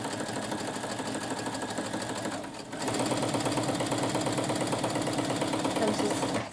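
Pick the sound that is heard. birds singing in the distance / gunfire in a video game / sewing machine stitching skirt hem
sewing machine stitching skirt hem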